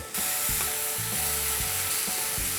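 Grated apple sizzling and stir-frying in melted butter in a pan, a steady close frying hiss with repeated scraping strokes of a utensil against the pan.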